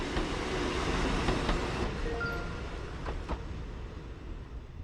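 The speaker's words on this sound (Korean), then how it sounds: "한 량짜리 기차도 하루에 몇 번 다니지 않는 작은 마을" A one-car train in a small rural town rolls past at steady volume, a broadband rumble with faint rhythmic clicks and a couple of brief metallic squeals, no voices.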